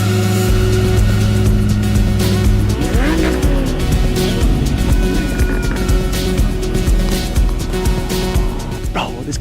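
A sports car, apparently a Ferrari, revs loudly and close by with tire squeal and skidding mixed into a steady roar of engine noise, while people talk over it throughout.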